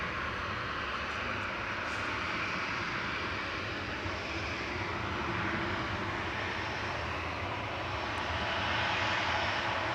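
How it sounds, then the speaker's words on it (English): A Ryanair jet on flight 2898 to Venice departs Manchester Airport, its engines a loud, steady broadband roar that holds unbroken for the whole stretch with no talking. "departing in front of us is Ryanair 2898 to Venice."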